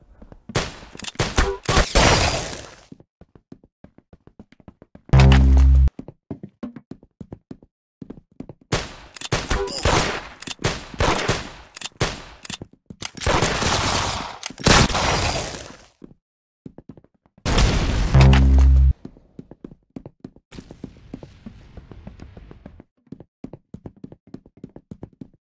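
Gunfire in a shooter video game: sharp bursts of shots in several short volleys, loud and close, separated by gaps of quieter clicking and game sounds.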